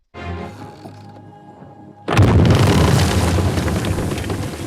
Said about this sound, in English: The explosion was so fast.